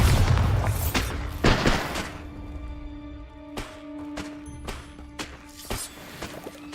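A blasting spell cast in the Hogwarts Legacy video game, a heavy booming impact followed by scattered thuds and crackles fading into a sustained tonal hum, fairly loud and close, with no talk.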